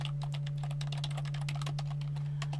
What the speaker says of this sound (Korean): 엔터 눌러서 종료를 해주시면 돼요